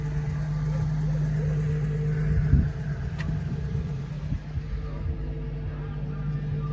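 A Nissan 350Z engine hums steadily while the car drives, a low droning rumble with a brief thump, and a person speaks briefly over it.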